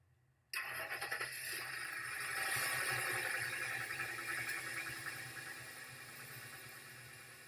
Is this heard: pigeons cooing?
no